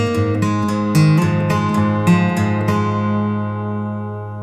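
An acoustic guitar, finger-picked with thumb and index finger, plays a short phrase of a song, with clear plucked notes in a steady rhythm that ring out and fade at the close.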